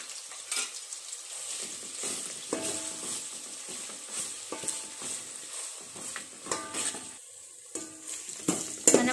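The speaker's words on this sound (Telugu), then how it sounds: "గోల్డెన్ బ్రౌన్ కలర్ వచ్చేంత వరకు తిప్ కలుపుకుంటూ ఫ్రై చేసుకోవాలండి" Onions stir-frying in a pan with ginger garlic paste for coconut milk rice, with a steady sizzle broken by repeated scraping stirs and light clinks of a utensil against the pan, close and moderately loud.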